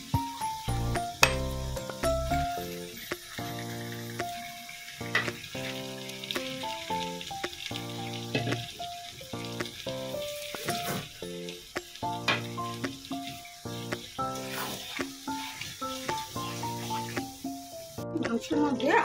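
Mutton sizzles as it is stir-fried in spiced oil with garlic and ginger for Bengali kosha, a steady crackling fry with stirring under prominent background music.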